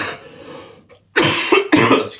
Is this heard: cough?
yes